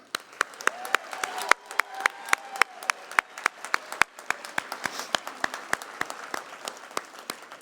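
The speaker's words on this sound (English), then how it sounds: "can we give a round of applause for this event?" Applause from a small audience at a Williamson County 2022 election kickoff event, a steady patter of separate claps, moderately distant, while a faint voice speaks over it.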